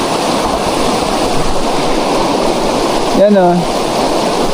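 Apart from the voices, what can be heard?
river water flowing in Mindoro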